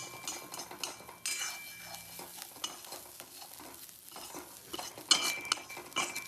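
Onion being sautéed in a pan at home, with steady stirring and scraping of a utensil against the pan, light sizzling, and a few sharper clinks of metal near the end, all close by with no talking.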